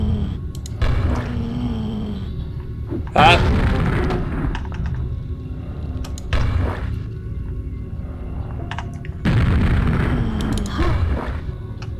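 A glue grenade is fired in a video game: two or three sharp, booming bursts land among steady game noise while someone talks over most of it.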